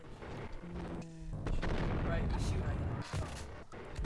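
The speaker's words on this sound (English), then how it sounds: "Someone's shooting at me." Gunfire from the video game Max Payne: several sharp shots and booming bursts packed into a dense, loud stretch, with a voice talking over the action.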